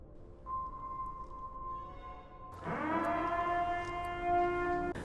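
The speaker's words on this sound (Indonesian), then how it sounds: "Tidak lama kemudian sirine pun berbunyi." A rising-and-falling siren wails as the purge night ends in a film, first one sustained tone, then a louder, fuller multi-toned blast from about midway that holds steady to the end over faint background noise.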